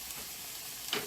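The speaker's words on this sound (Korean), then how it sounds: "그래서 달달달달 또 볶아주세요." Anchovies sizzle in a hot pan with garlic and ginger syrup, stir-fried without water; a steady close frying hiss with a brief scrape of stirring near the end.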